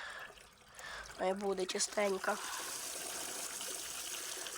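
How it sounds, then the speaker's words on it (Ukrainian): Tap water runs steadily into a pot in a continuous trickling rush, with a brief spoken phrase over it partway through. "Зараз наберу каструлю води."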